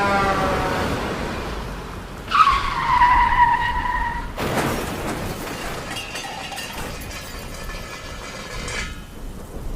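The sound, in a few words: cargo lorry crashing into car in heavy rain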